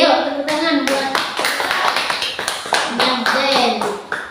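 Children in a classroom lesson clap their hands for a classmate, a run of sharp, fairly regular claps close by, with young voices calling out over the clapping throughout.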